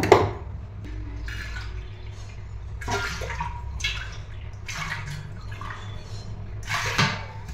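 Water splashes and pours into a pot in several short bursts, heating for chicken biryani, separated by quieter gaps with faint drips, close by and moderately loud.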